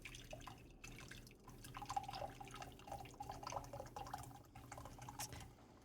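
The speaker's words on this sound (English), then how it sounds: "Sorry guys, I'm just pouring my coffee." Coffee being poured into a cup, heard as a soft, continuous trickle with small splashes and drips, close and quiet, with no talk.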